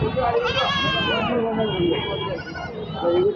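Goats and sheep bleat in long, wavering cries at a busy village livestock market selling kids and lambs, loud and close over crowd murmur and voices.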